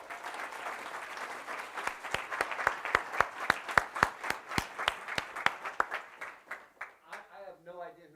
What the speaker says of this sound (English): I would like to just give him a round of applause